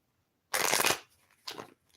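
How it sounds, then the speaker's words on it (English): Tarot cards being shuffled in two quick riffling bursts, the first longer and louder, the second shorter, close and clear with no talking. "so we'll do one more shuffle"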